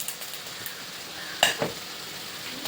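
Pineapple rice with a pinch of sugar and salt roasts in ghee as a spoon stirs it. A soft, steady sizzle carries a couple of brief scraping clinks against the pan, with no talking.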